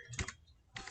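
Quiet keyboard keystrokes come in two short clusters of taps, close and soft, while Java code is typed on a computer.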